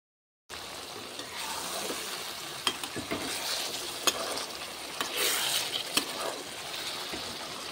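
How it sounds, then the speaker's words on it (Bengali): Dried fish and cucumber curry simmers in a pan, giving a steady soft sizzle and bubbling with a few sharp clicks and scrapes, close and moderately quiet, with no talking. "একটু হালকা ফুটিয়ে নেব, মাখা মাখা করে বানাবো।"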